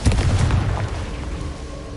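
Confringo explosion spell blasting rocks in the video game Hogwarts Legacy, a single heavy booming burst with a rumbling crumble that decays over about two seconds, loud and close.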